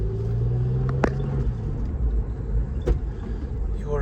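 Porsche 996 on its first drive after a rebuild, a low steady engine rumble heard from inside the cabin with a couple of sharp knocks or clicks, close and continuous, no talking.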